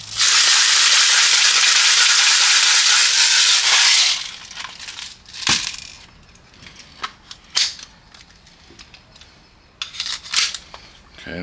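An airsoft gun loaded with a few BBs feeds and fires, giving a burst of sharp, rapid cracks followed by scattered single snaps and clicks nearby.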